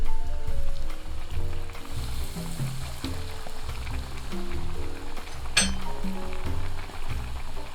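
A vegetarian tofu burger patty dropped into hot frying oil, giving a continuous close sizzle with light clinks and one sharp crackle midway, over a soft musical background.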